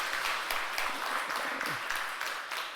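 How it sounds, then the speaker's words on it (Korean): A church congregation claps steadily during a Sunday service, a dense, continuous burst of applause heard from within the crowd. "우리 박수로 환영하시겠습니다."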